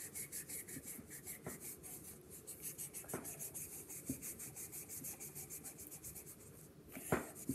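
Pencil or marker rubbing steadily across paper during a sketch of Spring Trap, a close, continuous scratchy drawing texture with a few sharper strokes and no talking.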